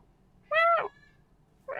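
A house cat meows once, loud and close, with a rising-falling harmonic cry lasting about half a second; a second meow starts just as the clip ends, otherwise quiet room.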